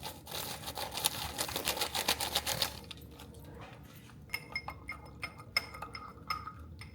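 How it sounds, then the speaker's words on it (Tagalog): A spoon clinks against a glass while stirring a drink of Milo, sharp rapid taps at close range, dense at first, then pausing and returning as scattered separate clinks. "Dito na lang ako magtitimpla ng aking Milo."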